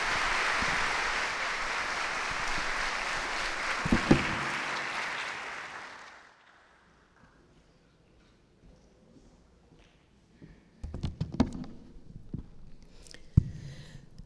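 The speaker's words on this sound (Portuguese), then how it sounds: "Aplaudir a nossa menina tão especial." Full audience applause in a concert hall during a music school event, loud and steady for several seconds before dying away, followed by near silence with scattered knocks and shuffling.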